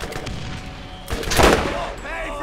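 A shotgun fires once in a video game with a burst near the middle, loud and close, followed by a brief mechanical rattle over a steady background hum.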